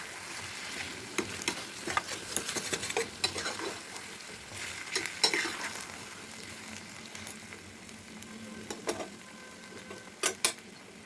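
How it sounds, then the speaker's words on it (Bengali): Mutton being stirred and scraped in a pan while it cooks into a gravy kosha, giving irregular close clinks and scrapes over a steady soft sizzle for about eleven seconds. "মাংসটা একটু নেড়ে চেড়ে দেবো"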